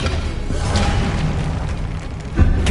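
Loud, dense whooshing boom of an Incendio fire spell in Hogwarts Legacy, a sustained roaring burst with a sharper pop near the end, heard close and alone.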